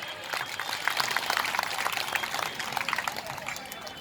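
An audience at a religious Shiva katha gathering claps, a soft, spread-out patter of many hands, fairly distant and steady, with a voice heard faintly over it.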